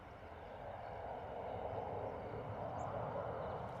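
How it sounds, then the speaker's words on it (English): An easyJet Airbus A320 rotates and climbs out from Bristol Airport in a crosswind, a steady broadband jet roar holding at moderate, distant level throughout with no talk. "EasyJet 320 looking very nice on the rotation and the climb out"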